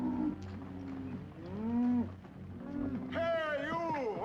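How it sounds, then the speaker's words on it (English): A cattle herd being driven along lows in long, drawn-out moos, several overlapping calls rising and bending in pitch, loud and close over low background rumble. "Keep the cattle moving."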